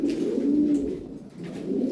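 A European Lahori racing pigeon coos up close, giving a low, throaty warble that rises and falls over two seconds with a brief dip in the middle, and no speech.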